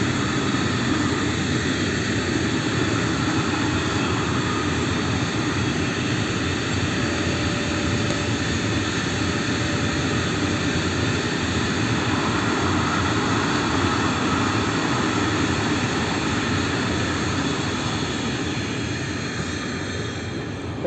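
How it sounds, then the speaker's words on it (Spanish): A train rumbling past at a training ground, a loud, steady broadband roar that holds for about twenty seconds and eases slightly toward the end. "está pasando el tren ahora mismo"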